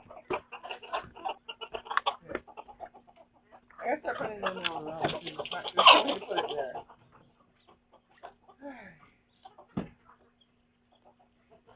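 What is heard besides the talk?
pet birds chirping and clucking in the morning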